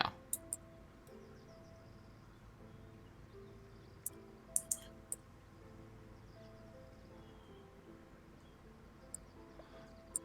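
Loud, sharp mouse or keyboard clicks during a Driftland game session, scattered singly and in quick pairs over a steady low hum of in-game music and ambience.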